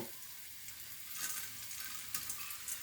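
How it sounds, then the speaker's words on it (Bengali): Red lentils fried in a pan with onion, garlic and ginger give a soft, steady sizzle, fairly faint, with a few light crackles and stirring scrapes. "মুসুর ডালটা দিয়েও কিন্তু ভালোভাবে কিছুক্ষণ ভাজতে হবে"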